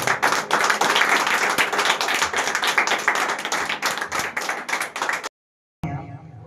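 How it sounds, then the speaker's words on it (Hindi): A congregation at a Sunday prayer service clapping for God, with rapid, rhythmic group clapping that is loud and steady for several seconds before stopping abruptly, followed by a brief faint sound. "ताली बजाते हैं परमेश्वर।"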